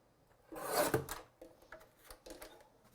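Stamped paper trimmed off the base for a watercolour card, a few close, quiet rasping cuts with a main scraping burst then softer short strokes.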